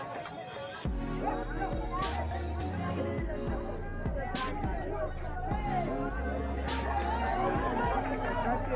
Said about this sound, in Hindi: तो आप लोग देखिए कितना भीड़ है।